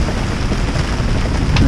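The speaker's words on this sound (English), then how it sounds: "The rain is pelting down" Heavy rain pelts down and wind howls over a small sailboat in a squall at sea, a loud, dense, unbroken roar close to the microphone.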